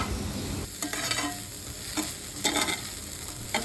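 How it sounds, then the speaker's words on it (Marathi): Soaked flattened rice (poha) mixed with cucumber is stirred into hot oil tempering, giving a steady close sizzle with a few scraping strokes of the spoon across the pan and no speech. "आता जे भिजवलेले पोहे आणि काकडी मिक्स करून ठेवलेली ना ते आपण फोडणीत घालून चांगला असा ढवळून घेऊया"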